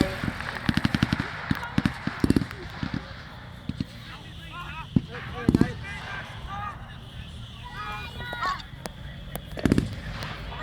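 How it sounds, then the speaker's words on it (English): A WW2 re-enactment battle crackles with blank gunfire as airborne troops return fire: sharp scattered shots and quick bursts, some close and loud, others farther off, while voices talk in between. "Fire will have been heard by the airborne troops who return it immediately."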